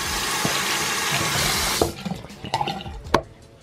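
Water runs loudly from a tap for about two seconds, a steady close rush that then shuts off, followed by small drips and handling clatter.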